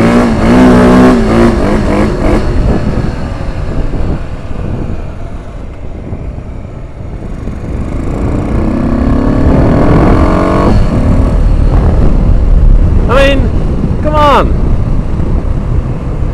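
A motorcycle revs hard again and again inside a tunnel. Its loud engine roars and booms off the walls in long surges, with a few sharp rising revs near the end.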